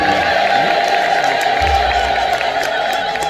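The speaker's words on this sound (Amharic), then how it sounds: "እልል ብላችሁ አመስግኑልኝ" A worshipping crowd at an Ethiopian Orthodox church gathering for Kidane Mihret raises a loud, continuous ululation of praise, sustained high trilling voices blending with cheering throughout.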